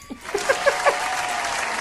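Audience applause at an event, scattered clapping that swells into steady applause after a voice cheers at the start.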